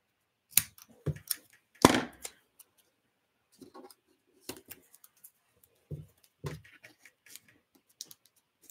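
Scissors cutting both sides of a paper craft piece, close sparse snips and paper rustles coming in irregular clusters with quiet gaps between.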